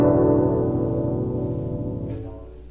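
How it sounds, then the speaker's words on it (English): A guzheng, the Chinese plucked zither, sounds one strong plucked chord that rings with rich low overtones and slowly fades, close and alone. "And when you play it, it sounds like this."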